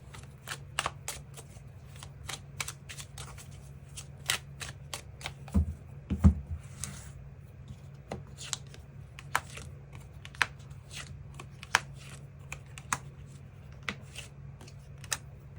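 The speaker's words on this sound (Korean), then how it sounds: "추가 카드 뽑아보도록 하겠습니다" Tarot cards shuffled and drawn by hand, a steady run of crisp close riffles and flicks with a brief louder shuffle burst near the middle, no talking.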